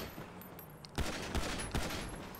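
A few distant gunshots in GTA 5, three or four spaced cracks over a quiet background, fairly faint.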